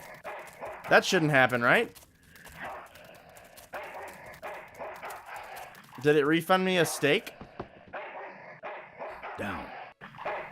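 Dog barking in the video game Full Throttle Remastered, a couple of short, loud bursts of barks near the start and middle, heard between and under a man's conversational speech.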